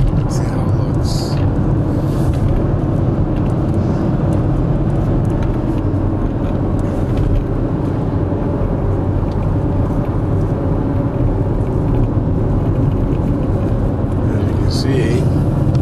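A car drives through a flooded town in Perth-Andover, its steady low engine and road rumble loud and continuous throughout, with a few faint higher splashes and clicks on top.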